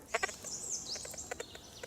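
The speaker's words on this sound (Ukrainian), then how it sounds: "Пташки співають." Birds sing in a mountain forest in the Carpathians, with several high chirps and whistled phrases scattered over quiet background noise, moderately distant and fairly faint.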